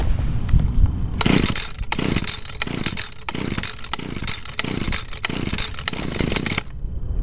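An Echo PAS 230 power head is pull-started at close range. A quick series of rhythmic rasping bursts comes from the engine as it turns over and sputters without catching, and the noise stops abruptly at the end.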